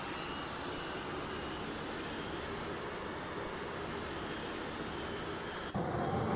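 Snecma ATAR 9K50 turbojet of a Mirage F1 in the DCS flight simulator, a steady, loud, broadband roar with a whining edge that holds constant throughout, with no voices over it.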